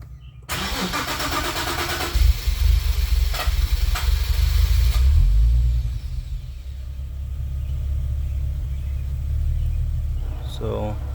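A Nissan 370Z with low fuel pressure cranks and its engine catches, a loud rough surge that settles into a steady idle rumble, with a brief clatter near the end.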